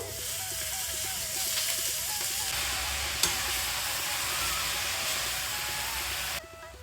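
Chopped harave greens dropped into a hot pan with turmeric-spiced oil, giving a steady, close frying sizzle and hiss that runs throughout, with a sharp clank partway through and a few faint background sounds.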